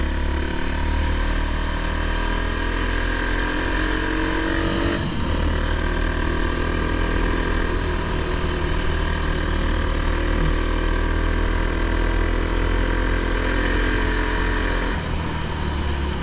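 A fuel-injected four-stroke enduro motorcycle engine runs continuously and loudly up close, a steady throbbing idle with a slight rev change partway through, with no talking.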